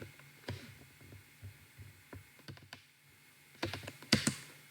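Keys clatter on a computer keyboard while code is typed, in irregular bursts of clicks over a low hum, with a louder cluster of strokes toward the end.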